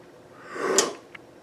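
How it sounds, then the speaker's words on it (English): A single sharp, breathy inhale past a finger, as a horn player's breathing exercise, with a low, rough, tearing texture, rising and fading over about a second, followed by a faint click. "getting that low ripping sound means you're breathing efficiently and correctly"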